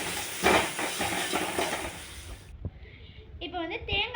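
Grated coconut sautéing in a pan for Chettinad chicken gravy, a soft steady sizzle and scraping stirs, followed by a brief quieter stretch with a voice speaking.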